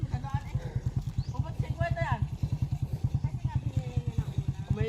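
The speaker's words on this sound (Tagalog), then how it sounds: "Yan kasi may motor na dumadaan dito." A motorcycle on a muddy road chugs past with a steady, rapid thumping engine pulse, close and fairly loud, as voices talk over it.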